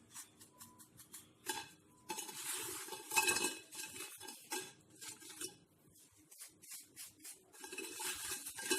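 Crispy fried chicken bites are handled with utensils, giving soft, irregular crunches, clinks and scrapes up close, faint with short pauses between them.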